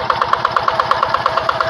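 A Quick G600 hand tractor with a Yanmar TF 65 single-cylinder engine runs steadily in a rice paddy, a loud, close, rapid chugging beat with an even mechanical knock and no voices.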